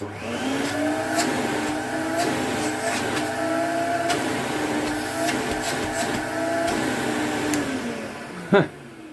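An Electrolux Z520 canister vacuum cleaner from 1990 runs steadily and loudly with a constant motor whine, its pitch and strain shifting as the hose end is blocked, followed by a brief sharp knock near the end.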